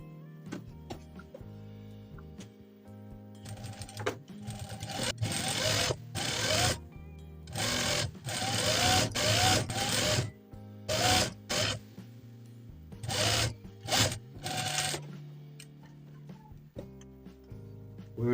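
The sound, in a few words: sewing machine stitching the waistline of a tube top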